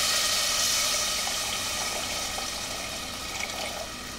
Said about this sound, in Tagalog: Ibubuhos lang natin dito yung tubig sa ating cooking pot.